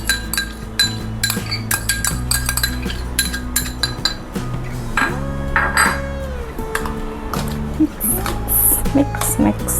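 Yogurt is stirred into a mushroom masala in a pan, with repeated clinks and scrapes of a spoon against metal in an irregular rhythm, close by, and a voice briefly heard.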